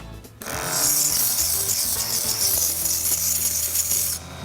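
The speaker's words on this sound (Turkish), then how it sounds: "şimdi ise sıra zımpara kağıdıyla yüzeyi temizlemeye geldi" Steady, gritty rasping of sandpaper rubbed over a wooden rocket model, continuous for several seconds after a brief pause, close and fairly loud.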